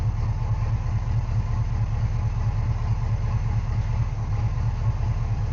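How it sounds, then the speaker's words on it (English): A large car engine idles steadily, a deep rumbling throb with an even, lumpy pulse that holds constant throughout. "right now we're at about 500 or 600 RPM. It's idling really well."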